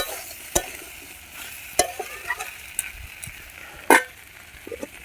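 Mixed vegetables and jackfruit sautéing in a pan, a soft low sizzle broken by a few sharp scrapes and clacks of a spatula stirring, close and fairly quiet with no speech.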